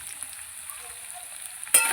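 Potatoes frying in a pan of oil with bay leaf, salt and turmeric, for a Bengali chitol fish muitha dish. A steady soft sizzle runs throughout, rising to a louder burst of crackling near the end.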